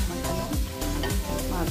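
Food sizzling in a pan with only a little oil while it is stirred, with a steady frying hiss and scraping strokes over a tonal background.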